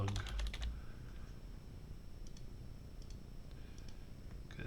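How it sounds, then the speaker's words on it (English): Rapid bursts of keystrokes on a computer keyboard during a software lab session, a quick cluster of clicks at the start followed by sparser taps over a steady room hum. "Because you are typing a lot."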